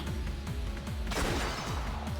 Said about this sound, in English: Another explosion rang out.